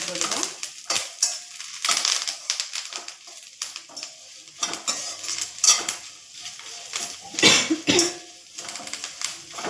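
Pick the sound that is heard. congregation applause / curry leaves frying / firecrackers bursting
curry leaves frying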